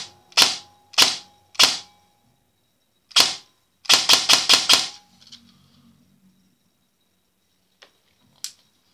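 KWA airsoft gun firing semi-automatic: sharp, close single snaps, three spaced shots, a pause, then a quick string of five, with a faint click or two afterward in otherwise quiet surroundings.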